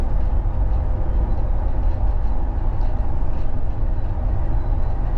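MAN bus being driven to the depot, a loud, continuous low rumble of engine and road noise from inside the moving vehicle, steady throughout with no voices.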